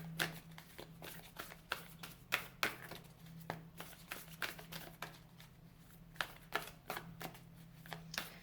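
Tarot cards shuffled by hand for a card draw, a quick series of crisp riffling slaps and flutters in uneven bursts, close and soft against a low steady hum, with no voices.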